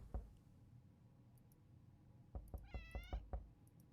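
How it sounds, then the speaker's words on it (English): A cat meows in the survival video game 60 Seconds, giving a short run of several clear, close meows in quick succession after a few faint ticks and clicks. "Kitty cat. Meow meow meow meow meow."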